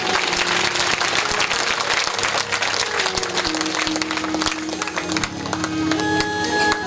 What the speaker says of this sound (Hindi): एक बार इनकी दीर्घ आयु के लिए जोरदार ताली बजा दी।